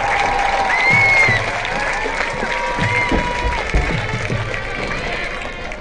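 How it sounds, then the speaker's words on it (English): A high school football stadium crowd applauds and cheers for the 2020 Bleckley County High School homecoming court, a distant, spread-out clapping under a faint public-address tone and open outdoor echo. "Please join me in a big round of applause for the 2020 Bleckley County High School Homecoming Court"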